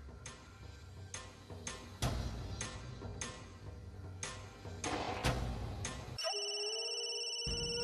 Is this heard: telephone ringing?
yes